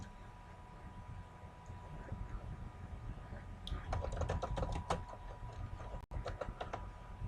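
Someone types code on a computer keyboard in quick, faint clusters of keystrokes over a low steady room hum, pausing briefly between runs.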